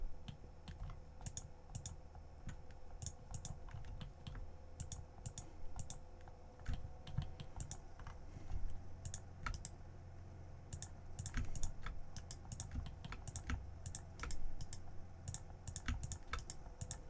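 Steady typing and clicking on a computer keyboard while modelling in Blender 3.6, with rapid irregular key taps close up and a low background hum, no talking.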